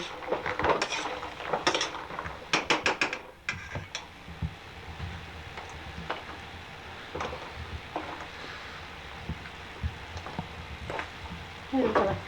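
Batter bubbling and frying in a pan with honey, a soft continuous sizzle broken by sharp clinks of utensils against cookware, close and fairly quiet.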